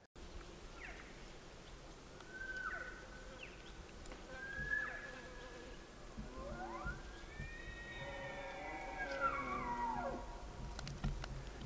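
A bull elk down in a draw bugles several times at a distance, rising squealing whistles followed by a drawn-out bugle near the end, over a faint rustling outdoor background.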